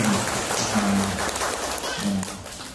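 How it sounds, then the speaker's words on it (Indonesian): Audience clapping at a Muharram orphan charity gathering, a continuous patter of many hands with a voice speaking over it. "Tepuk tangan untuk dia."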